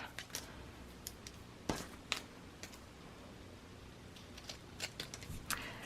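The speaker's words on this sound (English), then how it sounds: "I'm gonna fold it in half, and I'm gonna trim the corners like this" Scissors snip the corners of a folded paper keepsake box in a series of short, sharp, crisp cuts with small gaps between them, close and fairly quiet against a soft room hush.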